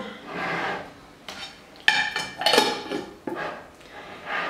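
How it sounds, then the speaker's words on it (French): A spoon scoops coconut oil from a jar, with close metallic clinks and scrapes against glass and cutlery, several separate knocks and rattles alone without talk. "je vais mettre une cuillère d'huile de coco"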